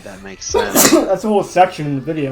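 A single sharp sneeze bursts out near the mic during a tabletop Dungeons & Dragons session, surrounded by people chatting before and after it.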